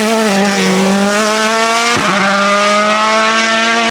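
A WRC rally car blasts past at close range on a Croatian rally stage in 2022, its engine a loud, high-revving snarl that drops in pitch as it passes and fades out.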